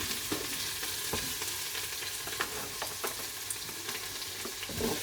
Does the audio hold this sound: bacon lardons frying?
yes